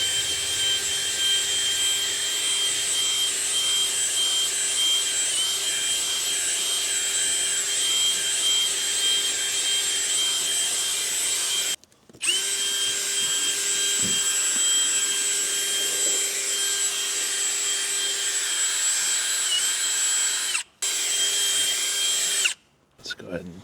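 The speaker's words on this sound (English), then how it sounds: "Gonna take a little drill brush." A drill brush whirs steadily while scrubbing the carpet of a 2003 Lexus LX 470, a loud close motor whine running continuously with a few brief stops and restarts.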